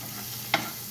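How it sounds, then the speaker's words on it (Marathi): Ground spice paste frying in hot oil for a green bottle gourd bhaji, with a steady soft sizzle and one brief louder crackle as the paste is stirred in the pan. "तेलात भाजून घ्यायचं आहे."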